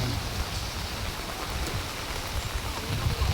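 Rain falling at a fresh market at night, a steady dense hiss of drops on surfaces that stays constant and close with no pauses.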